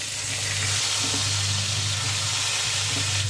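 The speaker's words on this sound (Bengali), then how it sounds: "মাছের একটা সাইড ভাজা হয়ে গেছে, এবার উল্টে দিচ্ছি অন্য সাইডটা ভেজে নেওয়ার জন্য" Boal fish fries in oil in a pan and is flipped, giving a dense, loud, unbroken sizzle with crackling spatter close up and no voices.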